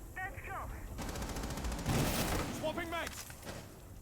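Gunfire in a Rainbow Six Siege collegiate esports match, with two rapid bursts of automatic weapon fire and game effects sounding under the steady talk of a match commentator.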